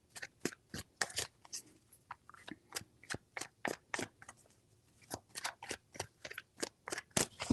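A tarot deck is shuffled close up, producing a rapid run of sharp card clicks and flicks that comes in uneven clusters, fairly quiet overall.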